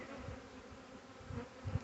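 Bees from a large swarm buzzing at low volume, a soft continuous hum with a few louder passes near the end, no voices.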